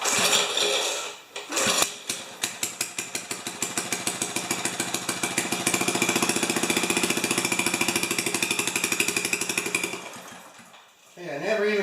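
A Briggs engine on a 50-year-old Hahn tiller, set in neutral, sputters and catches, then runs at a fast, steady chugging idle, close and fairly loud, before dying away near the end.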